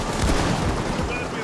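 Gunshots in Payday 2, a steady, loud wash of rapid fire filling the short moment without pause.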